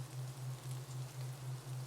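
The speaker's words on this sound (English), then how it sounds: "your ears twitch to the sound of the tap, tap, tapping of the rain on the leaves" Steady rain patters on forest leaves, a soft continuous hiss of drops with a low pulsing hum underneath, close and even with no voices.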